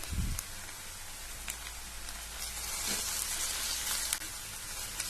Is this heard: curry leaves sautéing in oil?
yes